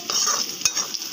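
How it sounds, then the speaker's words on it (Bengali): Potatoes fry in hot oil in a pan, a close steady sizzle with stirring scrapes and a brief louder clack of the utensil, no voices. "আলুটা ভালো করে ভেজে নেব।"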